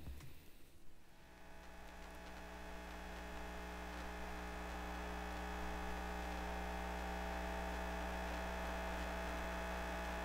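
Radio-frequency emissions from the lower part of a computer tower near its fan, picked up and rendered as audio: a steady, close electrical hum with layered buzzing tones that holds unbroken throughout.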